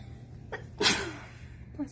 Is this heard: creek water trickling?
no